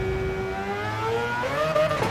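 A Mazda Concept GT3 race car in Gran Turismo 7 at Suzuka holds a steady engine drone, then its pitch climbs as it revs up and accelerates, loud and close throughout.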